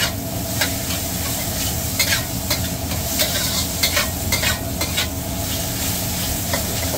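Ingredients with onion and carrot are stir-fried in a wok at a market food stall, giving steady loud sizzling with repeated scraping clicks of the spatula stirring throughout.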